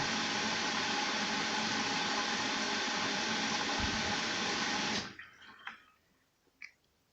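A washing machine fills with water during a Persil detergent test. A loud, steady rush of inflowing water lasts about five seconds, then cuts off, leaving a few faint drips and clicks in near silence.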